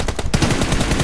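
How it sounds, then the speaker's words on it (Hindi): Rapid automatic gunfire in the BGMI mobile battle royale game, loud and close, a fast even rhythm of shots running through the whole short stretch. "अरे हेडशॉट दिया रे फियर"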